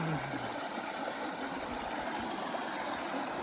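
A stream flowing under a bridge on the Pacific Crest Trail in Washington rushes steadily and loudly, a continuous broad hiss with no pauses.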